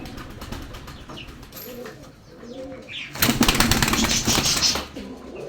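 A male Rekdar pigeon in a loft, with soft cooing and wing flaps among other birds, swelling into a louder burst of flapping and fluttering near the end.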